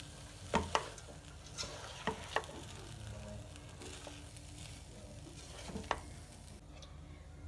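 Chilli garlic fried rice is stirred in a pan over a soft, steady frying sizzle, with a handful of scraping clicks from the spoon at irregular intervals.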